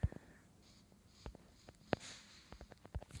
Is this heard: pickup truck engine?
no